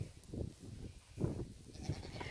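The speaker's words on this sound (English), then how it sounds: "And that is all our goats." Farm goats bleat softly a few times, spaced out against quiet outdoor background noise, with no other voices.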